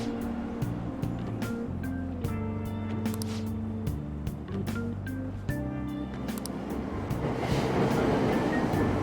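Subway train at a station in Persona 5 Royal, a steady rumble of rolling carriages with clattering rhythmic layers that swell louder toward the end, continuous with no voices.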